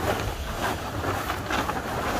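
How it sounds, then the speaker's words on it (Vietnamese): Strong, continuous wind roars outdoors by a garden fence under rainy weather, loud broadband buffeting of the microphone in uneven gusts with no break. "Gió liên tục mạnh rồi, mạnh liên tục."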